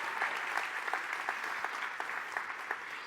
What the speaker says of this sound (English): And so if we could give Mike a huge round of applause to say thank you so much.